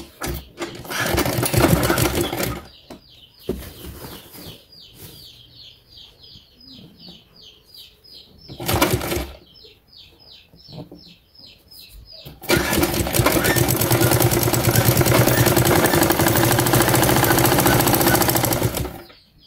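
Sewing machine stitching the ends of a school crossbelt, loud rapid mechanical whirring in bursts broken by pauses. A voice talks in the gaps, then one long continuous run of stitching follows.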